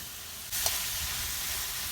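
Potatoes sizzling in a hot pan while being stir-fried before taro stolons go in; a steady broadband sizzle starts abruptly partway through and holds loud and even to the end, with a light clink of stirring.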